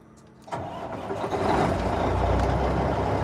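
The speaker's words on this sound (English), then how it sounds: "Just sounds like a truck." A large truck engine cranks and starts, then settles into a loud, steady diesel rumble close by.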